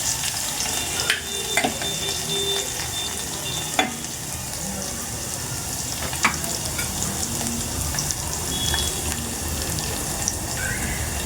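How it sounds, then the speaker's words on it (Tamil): Crushed garlic hits hot oil in a pan and sizzles steadily, with occasional scraping clinks from stirring, close and continuous throughout. "நம்ம நசுக்கி வச்சிருக்க பூண்டை போட்டுக்கிறோம்."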